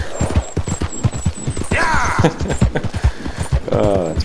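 Horse hooves clip-clop along in Red Dead Redemption 2 as the player rides his single horse, a steady rhythmic patter running beneath nearly continuous talking.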